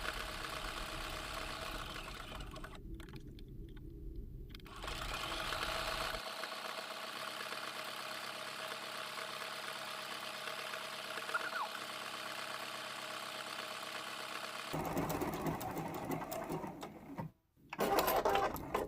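A sewing machine runs an overlocking stitch to finish a small quilted wall hanging, giving a steady motorized whir that goes on for long stretches, with a few brief stops and restarts.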